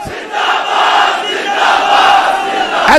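A large crowd at a religious political rally chants a zindabad slogan in unison, loud, close and forceful voices rising in waves, with a brief sharp burst at the very end.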